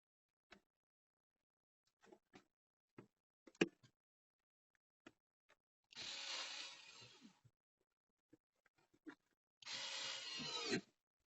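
Screws driven in while mounting engine compartment lights on a C8 Corvette: scattered small clicks and taps, then two bursts of power-driver whirring, each lasting about a second or so, close and quiet.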